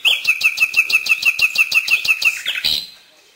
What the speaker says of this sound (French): le rossignol est un petit oiseau de nos forêts. Son chant est très varié.